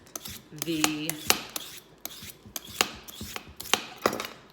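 Butternut squash turned through a spiralizer on a kitchen counter, giving a run of crisp, clicking crunches and scraping cuts at an uneven rhythm, close and fairly loud, with a brief tonal squeak early on.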